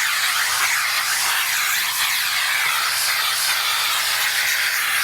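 Loud, steady rushing hiss of a vacuum cleaner's suction, constant and close with no pauses or talking.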